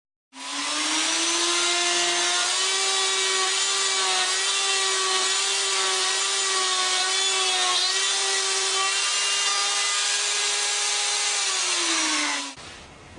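A homemade wooden router machine cuts mortises in wood, giving one loud, steady high-pitched whine that holds for about twelve seconds and then winds down at the end.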